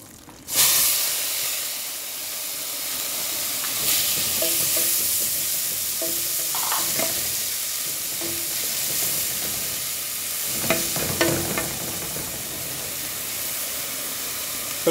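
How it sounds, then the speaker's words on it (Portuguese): Chopped onion and bell pepper hit a hot pan, with a sudden sizzle at the start that settles into a continuous close hiss, broken by several clattering stirs and scrapes of a utensil, no talking. "aí eu vou colocar a cebola e o pimentão"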